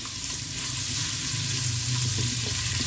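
Salted potatoes fry in a pan over medium-high heat, a dense continuous sizzle with soft stirring scrapes running throughout.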